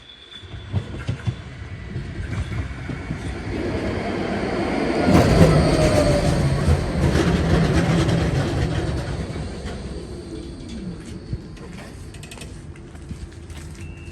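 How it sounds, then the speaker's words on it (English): Nottingham tram running on rails, a loud continuous rumble that swells and fades with wheel squeal and mechanical rattling, heard from inside the car with no talking. "This tram is for Toton Lane."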